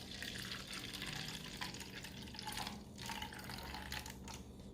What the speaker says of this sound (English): Okay, this is just an empty cup. I'm going to pour the top out.